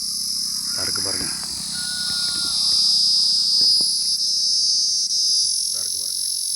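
Rain beetles (mazhai vandu) in a village make a continuous high shrill buzz throughout, with people talking intermittently over it.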